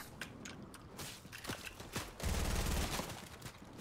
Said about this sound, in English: I'm shooting at the guy on your roof.